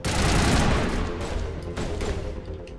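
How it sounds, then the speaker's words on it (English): Gunfire in Mass Effect Legendary, a dense barrage of loud shots and impacts filling a brief combat moment, close and continuous with no talk over it. "Where are they shooting from?"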